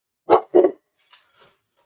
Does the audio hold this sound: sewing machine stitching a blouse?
no